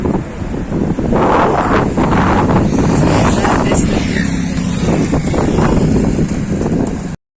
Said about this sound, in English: the wind is just too strong and I don't think you will hear what I'm saying in this video